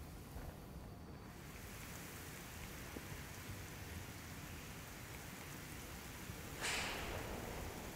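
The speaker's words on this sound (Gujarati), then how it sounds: "ભારે પવન સાથે ધોધમાર વરસાદ વરસી રહ્યો છે" Heavy rain driven by strong wind during Cyclone Biparjoy in Gujarat makes a faint, even hiss of downpour throughout, with a brief brighter gust or splash near the end.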